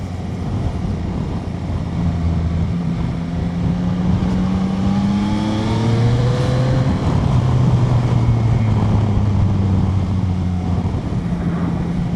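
Yamaha Tracer 9 GT motorcycle with its CP3 three-cylinder engine accelerating, engine note climbing through the gears over loud, steady wind rush from the riding position.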